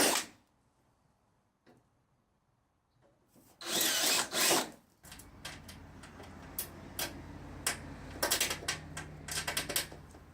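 A power tool bolts up fiberglass or Kevlar reinforced belts during a fluorescent-to-LED shop light fixture conversion. A quiet tick is followed by a loud burst of driving, then repeated short rattling bursts and clicks, close by.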